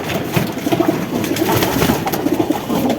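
A Sirazi pigeon coos repeatedly in soft, low, rolling bursts nearby, over a steady background hiss.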